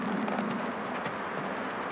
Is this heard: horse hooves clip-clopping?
yes